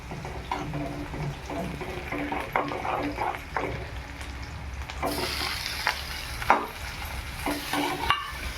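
Potato pieces fry in a pan for Marathi-style sabudana khichdi, crackling and sizzling steadily with intermittent scrapes and clinks of a spoon against the pan, close, growing brighter and louder partway through.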